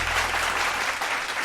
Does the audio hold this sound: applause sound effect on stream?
yes